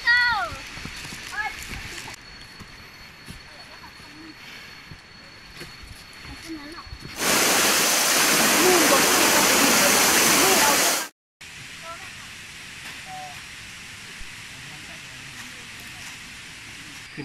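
Kuang Si waterfall near Luang Prabang roars as a loud, dense broadband rush for several seconds, then cuts off abruptly; quieter ambience with birds and a voice surrounds it.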